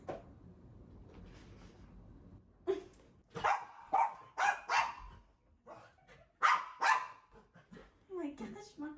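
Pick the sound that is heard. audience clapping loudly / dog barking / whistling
dog barking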